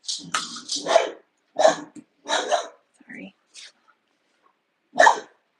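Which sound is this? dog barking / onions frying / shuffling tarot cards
dog barking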